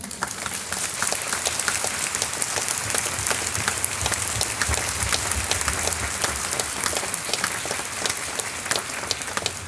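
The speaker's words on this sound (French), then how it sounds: "On peut vraiment applaudir." A large concert audience in Chartres Cathedral applauds steadily and loudly, dense clapping sustained throughout with no pauses.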